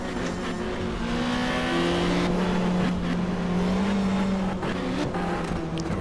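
A Peugeot touring race car in the 1994 GTR2 Pukekohe 500 roars past on the circuit, its engine note loud and continuous with a rising and falling pitch, alone without talk.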